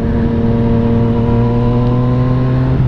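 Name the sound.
rev bomb on a Yamaha FZ-09 motorcycle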